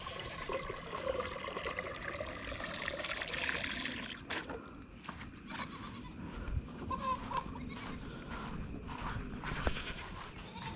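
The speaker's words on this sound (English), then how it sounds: "Here's the little billy goats. Little baby bucklings." Young Boer goat bucklings bleat on a farm in repeated short cries over a steady background of outdoor noise and running water.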